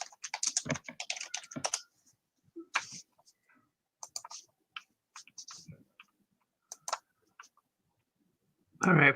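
Someone clacks away on a computer keyboard, with bursts of close, crisp key clicks separated by pauses and a louder flurry at the end.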